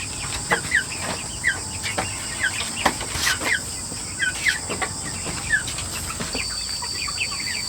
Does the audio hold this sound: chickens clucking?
yes